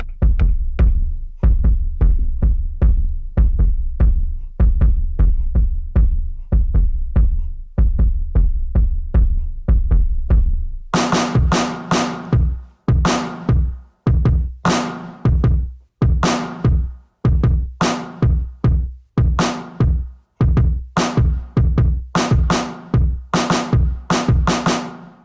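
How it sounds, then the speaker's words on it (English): A basic drum pattern programmed in an iPad music app plays alone: a booming kick-heavy loop at first, then crisp snares and hi-hat hits join in a steady, punchy groove throughout. "here is how the drums sound"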